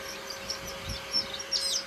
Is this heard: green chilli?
no